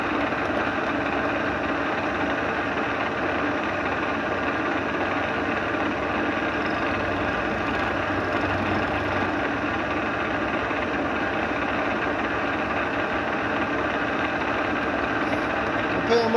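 Piston being cut manually on a lathe, taking light three-thousandths passes, a steady continuous machine drone and whir with no breaks throughout, fairly loud and close.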